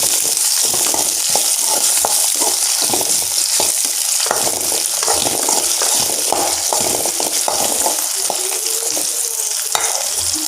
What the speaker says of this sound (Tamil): வச்சு இப்போ எல்லாத்தையும் சேர்த்து நல்லா வதக்கி விட்டுடலாம்.